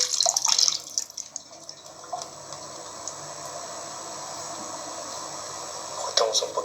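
Water running from a faucet just after a valve repair, a hissing splashing flow strongest at the start and returning near the end, moderately close, with people talking at times.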